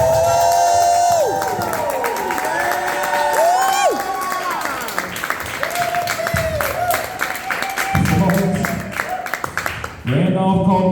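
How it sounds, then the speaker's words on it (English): A comedy club audience applauding and cheering for the headline comic, a dense wash of clapping with whoops and shouts mixed in, carried alongside loud music. "So please, a final round of applause for our headliner comic,"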